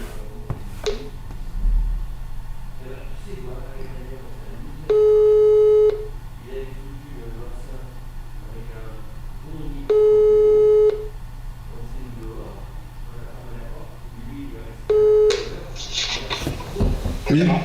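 A telephone ringback tone sounds three times at even intervals of about five seconds while a call is placed. Between the tones there is a steady hum and a soft murmur, and a clatter comes near the end.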